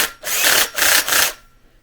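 A cordless drill fitted with a bimetal hole saw bites into a cyclonic filter housing in three loud, close grinding bursts, each about a third of a second, with short pauses between them before trailing off.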